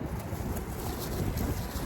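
Strong wind roars steadily across the microphone outdoors outside a Vons grocery store, a constant low buffeting rush with no pauses for the full two seconds.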